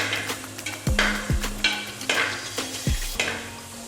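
A spatula scrapes and stirs in a pan as curry leaves sauté in oil for beef pepper roast, with repeated rhythmic scraping strokes over a steady close sizzle and no talking.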